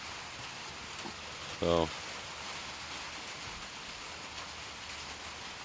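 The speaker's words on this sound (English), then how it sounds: "The rain is just rolling in here." Steady rain falls outdoors with a soft, even hiss throughout, and someone says a brief word partway through.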